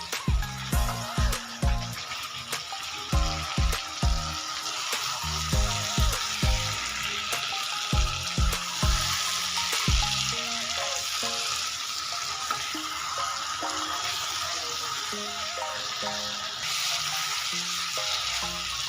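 Pre-fried potatoes sautéing with masala and kasuri methi for a vegetarian aloo dum, a loud continuous sizzle with a run of rhythmic low knocks of the spoon against the pan in the first half, no talking.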